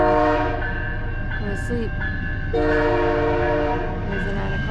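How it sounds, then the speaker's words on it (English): Train horn blaring at a rail crossing at night as a train passes close by, loud sustained tonal blasts over rumbling wheels, with brief speech mixed in. "Train's coming."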